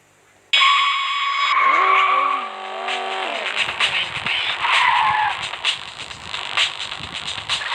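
Motorbike racing video game audio with a revving engine that rises and falls in pitch, followed by loud skidding and tire squeal noise with scattered clicks, continuous and close throughout.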